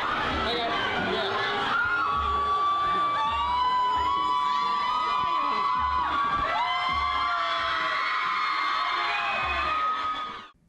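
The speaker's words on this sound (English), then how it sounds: "he's like got the whole crowd cheering away" A large crowd cheers, whoops and shouts continuously at a live event, with high children's shrieks and yells sustained throughout before cutting off near the end.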